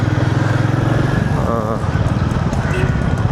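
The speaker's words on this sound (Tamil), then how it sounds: "அங்கேருந்து பெசன் நகர் பீச்சுக்கு வந்து நான் வண்டியை ஓட்டிகிட்டு போகிறேன்" A Royal Enfield Meteor 350 motorcycle ridden along a city road toward Besant Nagar beach in Chennai, its steady low engine thrum continuous and close throughout, with a voice talking over it.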